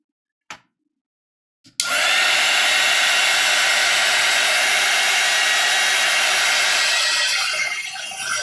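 A heat tool drying a watercolor painting clicks on after two faint knocks, then blows a loud, steady whooshing roar for several seconds that tapers slightly near the end.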